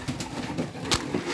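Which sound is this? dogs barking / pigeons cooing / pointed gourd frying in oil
pigeons cooing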